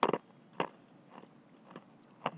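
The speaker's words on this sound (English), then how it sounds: "Sorry, chewing on ice, but it's better now." Someone chews on ice close to a microphone: sharp crunching bites, a cluster at first and then single crunches spaced about half a second apart, with no talk.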